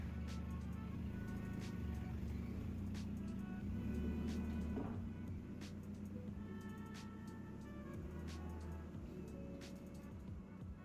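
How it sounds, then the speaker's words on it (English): A Nissan 240SX with a rebuilt power steering pump drives around the block, its engine and road noise forming a steady low rumble throughout, with scattered clicks and no talking. "I took the car for a little test drive around the block"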